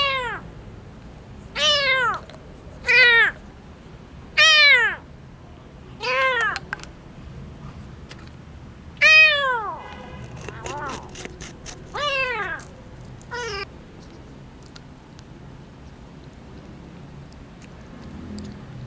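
A sick, blind kitten meows repeatedly, high and thin, about a dozen cries spaced a second or two apart, close and clear with no other sounds.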